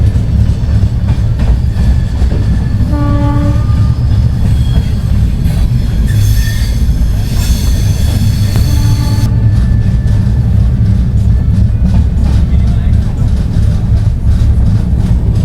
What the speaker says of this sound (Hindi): भाई पैरेलल अराइवल हो रहा है अपना जयपुर हैदराबाद एक्सप्रेस के साथ में चित्तौड़ जंक्शन पर।